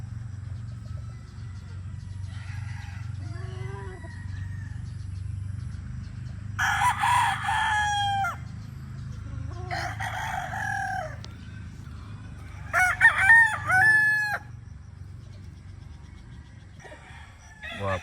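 A bulik gamecock rooster crows several times, loud and near, each call a strained rising cock-a-doodle-doo over a low background hum, with a few softer clucks in between.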